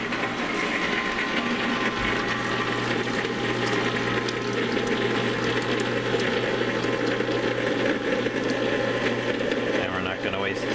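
A running ice cream machine churns steadily and loudly while black raspberry sorbet mixture is poured in, a constant motor whir with watery gurgling throughout.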